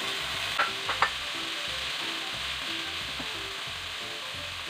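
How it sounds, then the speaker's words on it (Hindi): Already-boiled peas and about half a cup of chopped carrots sauté in a pan for Chinese vegetable kababs, a soft, steady sizzle with a few light scraping clicks of a stirring spoon near the start, close and quiet, no speech. "अब इसमें मैं ऐड कर रही हूँ मटर जो ऑलरेडी बॉयल हैं, इनको भी हमने सौते करना है।"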